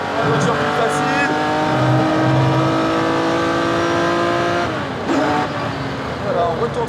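A classic race car engine at Mugello screams as it accelerates hard at full throttle, pitch climbing steadily before a quick short shift, loud and close with some talk mixed in.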